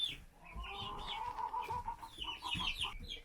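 A flock of Easter Egger and Olive Egger chickens murmurs and clucks continuously nearby, soft overlapping calls with a few higher squawks rising above the chatter.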